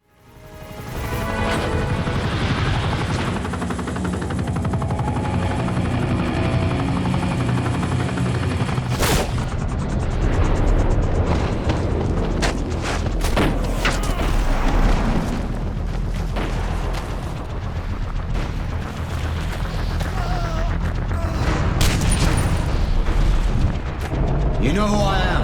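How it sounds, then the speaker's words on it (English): Continuous booms, gunfire and explosions fill the scene as a plane is attacked and goes down in Call of Duty: Modern Warfare, loud and dense throughout with a rumbling undertone. "the plane will be attacked by Makarov. When the plane goes down"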